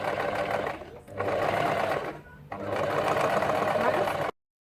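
A sewing machine runs in steady bursts while stitching a waistband onto a child's circle skirt, with two short pauses between runs before stopping abruptly.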